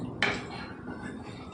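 A spoon knocks once against a pot while bottle gourd curry with milk is stirred, a single faint metallic clink followed by quiet, soft kitchen background.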